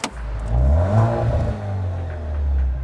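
An Alfa Romeo engine revs up loudly and close by, a deep growling roar that swells and then holds steady.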